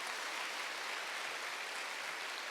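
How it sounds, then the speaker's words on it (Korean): A church congregation at a Wednesday worship service applauds, a faint, even wash of many hands clapping steadily with no voices standing out. "박수로 가주세요"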